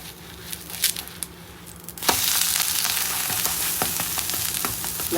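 A vegetable protein dosa sizzles steadily on a hot pan after being flipped, a loud continuous frying hiss that begins abruptly after a couple of seconds of quieter handling noises.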